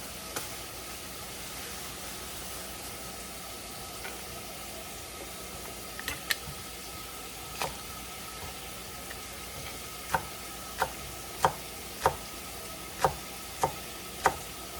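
Knife chopping an onion on a cutting board, with sparse cuts at first and then a steady run of crisp, evenly spaced chops over a low background hiss.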